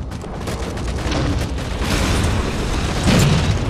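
A plasma grenade detonates during a Halo match, a loud broad burst rising out of dense game noise and swelling toward the end.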